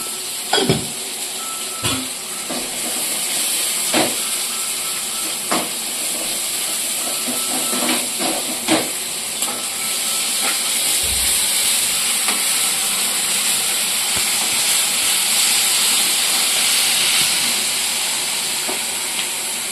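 Mustard seeds sizzling and popping in hot oil for prawn thokku, a steady loud hiss with scattered sharp crackles and pops throughout, no talking.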